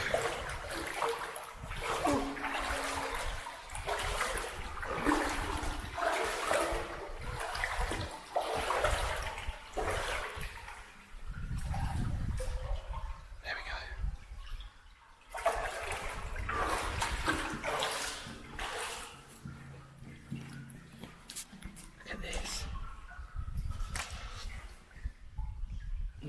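Muddy water rushes and splashes steadily inside a Victorian brick culvert, a continuous broadband flow with fluctuating surges and occasional quieter dips.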